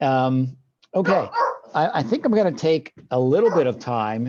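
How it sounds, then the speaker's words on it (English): A dog barks now and then in the background of a home office during an online work meeting, short barks partly masked by someone talking continuously up close. "I apologize for the dog in the background"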